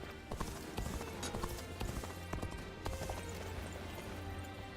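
Horse hooves clatter in Dynasty Warriors Origins, a rapid galloping clip-clop close up, thick with battle ambience.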